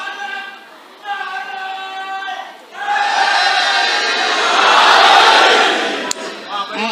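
A large gathering at a religious celebration raises a loud, sustained collective chant that swells after a quieter, tonal opening passage, with voices blending into a dense roar through the middle of the clip.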